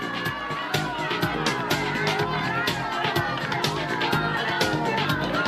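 A massive roadside crowd cheers a Spanish cyclist climbing toward a world championship, a dense, steady roar of voices and whoops with sharp bursts throughout, loud and close.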